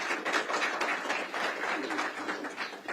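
A crowd at a political rally claps for a guest, with steady, dense applause that holds throughout at a fairly even level.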